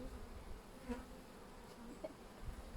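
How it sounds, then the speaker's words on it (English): Faint, steady insect buzzing with a honey bee or two droning close by against a quiet hum. "No, that's a bee eating honey."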